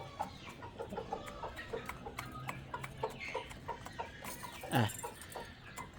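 Chickens cluck in short, soft, scattered bursts around a village coop, fairly distant under steady background noise, with one louder call near the end.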